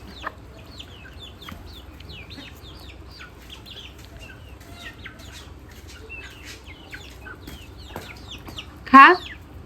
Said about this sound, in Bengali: আমার মুরগি হচ্ছে পাগল হয়ে গেছে মুড়ি খাওয়ার জন্য